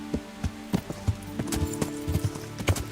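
Horse hooves clip-clop in Kingdom Come: Deliverance, a steady walking rhythm of distinct hoof strikes, close and clear over a faint low hum, with no talking.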